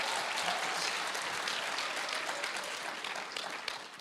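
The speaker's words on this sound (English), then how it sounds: "And you clap, you almost got the mute." An audience at a county clerk, recorder and sheriff candidates forum claps in a steady burst of applause that slowly fades over a few seconds, with no talk.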